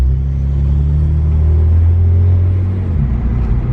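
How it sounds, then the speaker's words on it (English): A BMW 335i with an N54 engine, new downpipes and loud turbos rumbles steadily up close, a deep, heavy drone with a slight rise in revs, alone with no voices. "Wow, turbos are really loud."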